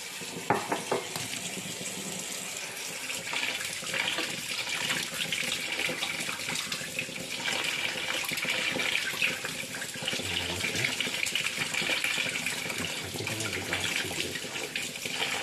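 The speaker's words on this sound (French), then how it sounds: "on va rincer les graines" Tomato seeds are rinsed under a running tap, a continuous close hiss and splash of water into a sink lasting throughout, no voices.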